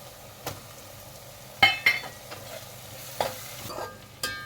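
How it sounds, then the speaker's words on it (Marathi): Tomatoes fry in a pan with onion and asafoetida, a low steady sizzle with a few crisp clinks and scrapes of a spoon stirring, close and unaccompanied by speech. "आता आपला टोमॅटो छान भाजला आहे"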